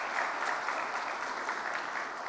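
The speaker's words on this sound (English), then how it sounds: "So we can clap it up for Crystal." Steady applause from an audience at a state Black History Month celebration, a dense wash of clapping that holds at an even level for a couple of seconds with no voices over it.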